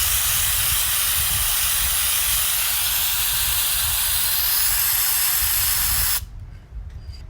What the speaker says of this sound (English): I'm going to spray it directly on here.